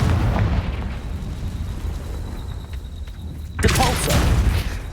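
A Confringo fire spell bursts in the Hogwarts Legacy video game, a sudden loud blast about three and a half seconds in that rings on over rumbling combat noise and low background music.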